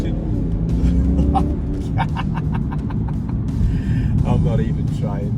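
A remapped BMW F30 330d diesel accelerating while struggling for traction, a loud deep engine rumble inside the cabin as people talk over it.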